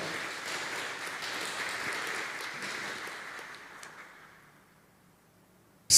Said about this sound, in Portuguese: Dá uma salva de palmas para vocês mesmo.